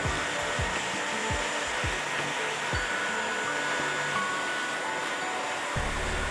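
An electric handheld air blower runs steadily and loudly, blasting dust out of a dusty computer, a continuous whooshing roar with occasional low thumps as it is moved about, with no talking.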